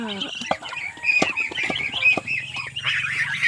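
Chickens cluck and call nearby alongside high peeping from newly hatched chicks, a busy mix of close, irregular fowl sounds.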